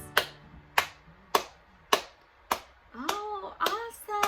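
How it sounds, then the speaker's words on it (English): Children clap their hands at a children's early-years session: five sharp, evenly spaced claps, close and loud, followed by a voice talking. "Clap those hands"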